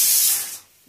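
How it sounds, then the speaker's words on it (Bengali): Eggplant frying in a pan gives a brief, loud hissing sizzle that fades quickly to quiet, ending with a small knock. "আর এখানে কি একটা ভাজা হচ্ছে"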